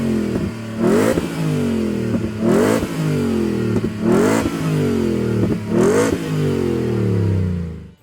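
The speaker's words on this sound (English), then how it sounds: "My favorite, F150 Raptor R. Listen to that engine." Engine of a 2025 Ford F150 Raptor R truck revving hard before a drag race, four or five loud rising and falling roars in close succession, close and strong, with no talk.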